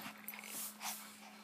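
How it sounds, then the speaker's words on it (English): A dog pants close by in soft, breathy, rhythmic bursts, moderately quiet with faint room noise behind. "And the dog right here."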